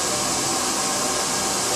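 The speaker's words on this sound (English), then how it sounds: "Moving the hairdryer all the time so I'm not causing any scalp burn." A handheld hair dryer blows a steady, loud broadband rush of air while drying hair at the roots, held close and constant without a break.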